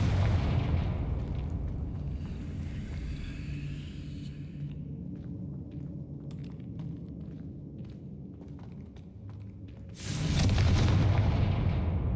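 Confringo spell blasts in Hogwarts Legacy boom as deep, heavy rumbles, loud at the start, fading to a low roll, then bursting loudly again near the end.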